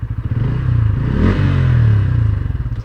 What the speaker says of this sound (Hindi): ये हो गई बाइक हमारी स्टार्ट। थोड़ा रेव करते हैं।